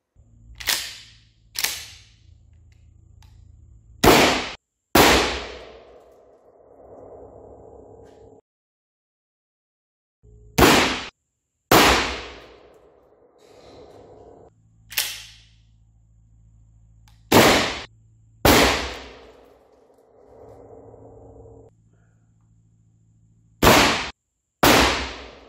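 A Beretta pump-action shotgun with no choke fires birdshot cartridges at targets 7 and 10 metres away. About ten loud, sharp blasts ring out in spaced groups outdoors, with softer mechanical handling noise between them.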